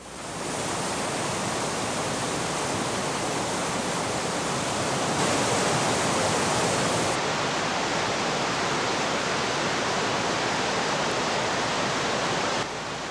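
Powerful roar of water released through the four bypass tubes of Glen Canyon Dam, a dense, unbroken rushing wash that holds steady and loud throughout.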